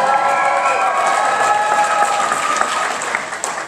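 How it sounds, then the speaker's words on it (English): Loud, sustained applause and cheering from a Q&A audience of robot makers fills the whole stretch, a dense wash of clapping with scattered shouts, tapering slightly at the end. "Can you raise your hands or give a cheer if you're a robot maker?"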